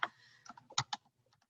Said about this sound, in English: Okay, sometimes I type faster.